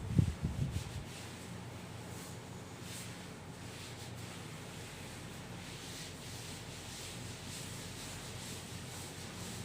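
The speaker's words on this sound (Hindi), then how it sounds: "इसको अब रब कर देते हैं" A board eraser rubs across a classroom board, giving a continuous, soft, scratchy scrubbing sound that holds steady for several seconds after a brief louder knock at the start.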